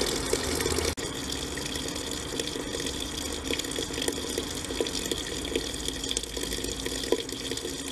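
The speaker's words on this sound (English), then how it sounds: "adjustment to the splash foam can completely change the sound of the fountain" Steady splashing water from a fountain with splash foam runs continuously, a dense even wash of sound with small droplet accents, fairly close and unbroken throughout.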